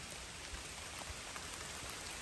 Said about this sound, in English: raining now. Not just drizzling.